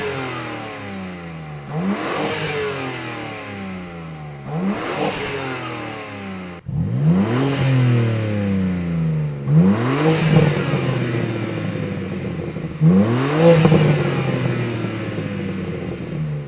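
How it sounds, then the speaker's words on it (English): A BMW M3/M4 engine with the standard stock exhaust is revved repeatedly while parked, with five rising and falling blips over a steady idle, fairly subdued and close. "let me start the car up, give it some rev standard so you can hear what it sounds like"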